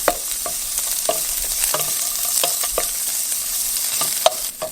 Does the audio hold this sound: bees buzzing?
no